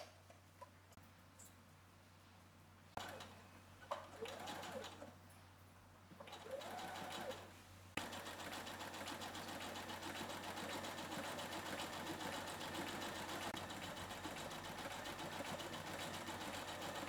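An overlock stitch on a home sewing machine runs along the seam allowance edge of a summer dress, first in short stop-start bursts and then as a steady, close mechanical whir.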